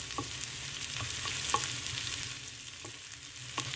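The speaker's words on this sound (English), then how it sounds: "Let this cook till the onion softens." Onions fry in a pan for Sri Lankan sambar, a steady close hiss of sizzling oil with a few light clicks of stirring scattered throughout.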